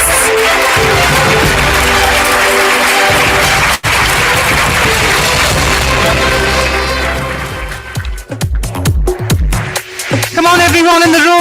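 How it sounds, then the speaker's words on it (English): Audience applause at an awards ceremony honoring influential women, a loud sustained wash of clapping filling the room, then breaking into scattered claps near the end. "Come on, everyone in the room, let that applause continue as we celebrate Pooja's victory tonight."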